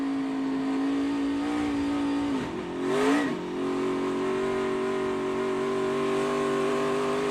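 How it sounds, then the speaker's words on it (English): Race car engine holding a steady high drone on track among lap traffic, with one tire spinning; a brief dip and swell as the throttle blips around the three-second mark, then a strong sustained tone, no talk. "So you can hear every time you go to the throttle, the engine revs up."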